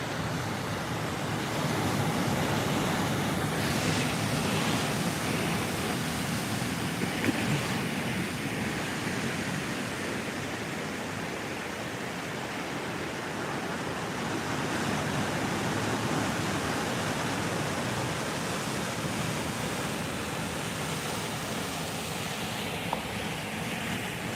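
Ocean waves at San Bartolo beach near Lima, Peru crash against rocks in a continuous, loud roar of surf and spray with no pauses, steady throughout.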